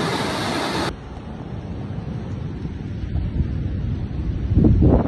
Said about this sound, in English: It went from a storm with winds of 40 miles per hour to a Category 3 hurricane with gusts up to